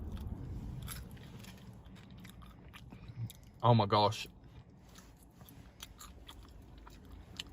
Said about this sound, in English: There is crunch to it, which is exactly what you need in fish and chips. In fact, let's have a bite out of this one.